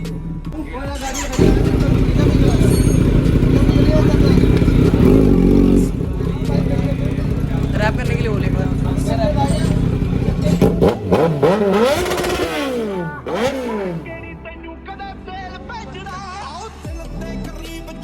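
A Bajaj Pulsar NS125 motorcycle with a full-system aftermarket exhaust idles loudly and revs nearby with a deep throaty note, while people talk over it.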